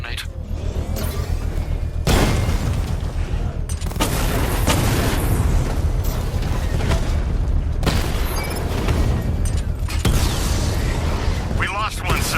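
In the Batman Arkham Knight game, an explosion strikes the Rattler, with loud booming blasts and heavy rumbling bursts going off repeatedly alongside game voices and combat noise.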